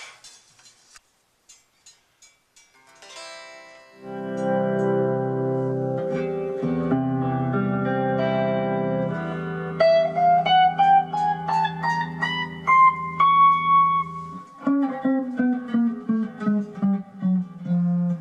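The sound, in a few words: electric guitar being played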